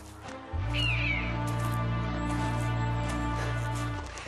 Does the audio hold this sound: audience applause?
no